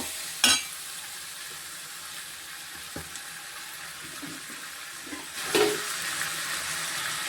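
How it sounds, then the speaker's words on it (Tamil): Chopped tomatoes and onions sautéing in a pan for drumstick-leaf (moringa) soup give a steady, close sizzle. A few light stirring clinks rise above it, and no one speaks. "தக்காளி வெங்காயம் வதங்குறோம் இது நல்லா வதங்குறோம்"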